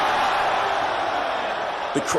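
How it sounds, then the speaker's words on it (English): Crowd at a Drew League basketball game featuring LeBron James, a steady dense roar of cheering and voices filling the whole stretch, with a couple of louder whoops near the end. "Listen to the crowd, man."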